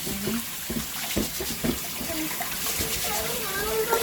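Rice is washed by hand in water in a kitchen, with sloshing, swishing water and a running tap under a person talking over it.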